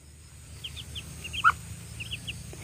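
A chicken clucks softly in short, scattered calls, with one sharper cluck standing out, over a low background hum.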